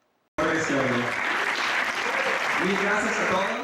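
Audience applause at the close of an international relations conference session, a dense steady clapping that starts abruptly and runs loud throughout, with voices faintly mixed in.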